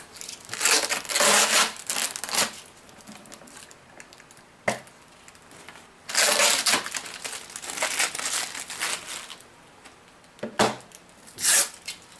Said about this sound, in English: Taking all the protective coating off, bubble wrap. Just take all this stuff off.